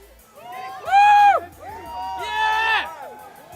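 Crowd at a UFC press conference in New York lets out loud cheers and whoops in two swelling bursts, with voices and shouting mixed through the noise.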